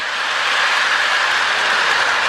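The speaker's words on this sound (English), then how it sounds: "it's a really nice, smooth running locomotive" A K-line New Haven Alco model train locomotive runs steadily with a smooth, close whirring hum and faint mechanical rattle, loud and even with no pauses.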